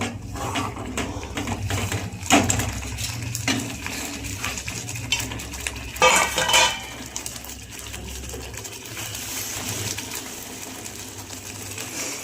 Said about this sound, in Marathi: तेल सुटूपर्यंत मसाला परतून घ्यायचं.